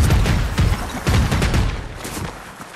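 Gunfire in Fortnite, a loud rapid burst of shots cracking close by in quick succession, then trailing off into quieter scattered reports.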